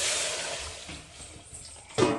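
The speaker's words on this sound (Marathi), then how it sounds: "आणि आता गरम पाणी वतायचं" Hot water poured into a chicken curry cooking over a wood-fired chulha, a steady rushing splash with a louder surge of pouring near the end.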